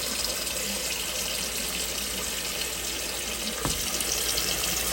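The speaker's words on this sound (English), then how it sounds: "So you're just adding water now to boil." Tap water runs steadily into a pot for boiling tamales, a continuous broadband rush with a brief splash or clunk near the end, no talking over it.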